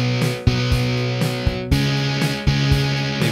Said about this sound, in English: Let's add a little reverb.